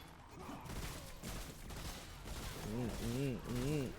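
Gunfire in the video game Remnant during a hard co-op boss fight against The Warden, bursts of shots mixed with game effects under excited talk.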